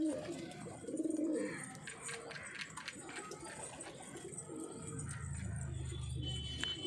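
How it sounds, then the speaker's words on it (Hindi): Punjabi Malwai pigeons coo softly amid a busy outdoor background of rustling and distant chatter, with a low rolling coo near the end. "सारे तैयार कबूतर हैं जी, बाहर छोड़ने वाले कबूतर हैं जी"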